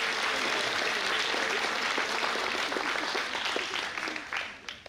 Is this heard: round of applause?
yes